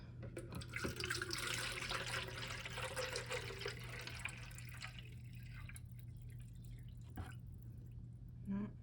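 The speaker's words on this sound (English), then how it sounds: "So we're gonna go here and refill with a jug of RO." Water from a jug of RO water pours into a tank, a faint trickling and splashing that eases off partway through, with small drips afterward and a steady hum underneath.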